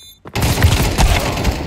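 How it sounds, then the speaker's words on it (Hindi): Rapid automatic gunfire from a Counter-Strike 2 match bursts in after a brief quiet start and keeps going as a loud, dense stream of shots with punchy low thumps. "एक गोली मार दे"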